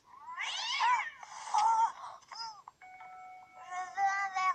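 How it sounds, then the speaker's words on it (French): A house cat in a hallway at night meows several times, clear rising and falling cries spaced by short pauses, near and alone with a faint chime-like tone in the background. "Ça doit être juste le chat."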